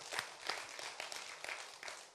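Audience applause at a church Easter gathering, a continuous wash of many hands clapping at once, steady and fairly faint throughout the short stretch.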